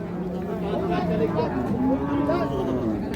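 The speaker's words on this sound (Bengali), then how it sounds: "6 দাঁতের গাভী, দর্শক দেখার মতো।" Large six-toothed Friesian dairy cows low and moo repeatedly at a busy cattle market in Raniganj, the drawn-out calls close and loud over a steady crowd murmur.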